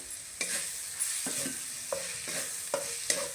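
Coconut paste roasts in a pan, sizzling softly while a spoon scrapes through it in regular stirring strokes, each stroke marked by a brief scraping clatter and nobody speaking.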